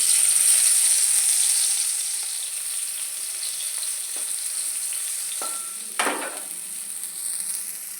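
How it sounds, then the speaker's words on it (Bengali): Boiled bitter gourd frying in a pan, a steady bright sizzle that fades a little partway, with a few utensil scrapes and clinks near the end; no talking. "সেদ্ধ করা করলাটা এবার আমি ভেজে নিচ্ছি।"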